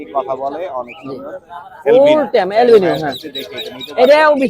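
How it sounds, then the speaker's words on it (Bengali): A male lory calls at the Bottola bird market in Mirpur 13, with bursts of harsh, warbling cries rising over nearby market voices. "মেল পাখি কথা বলে"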